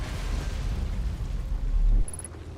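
In the video game Outer Wilds, the shuttle is recalled home with a deep roaring rumble that swells, then cuts off abruptly, leaving a faint high electronic trill at the end.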